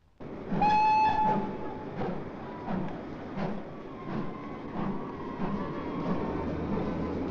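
A train whistle sounds, then a British steam locomotive chugs along with steady rhythmic puffs and rumbling wheels, moderately close.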